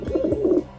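Pet pigeons in a home give a soft, close, low cooing that rolls in a few throaty bursts, with no talk over it.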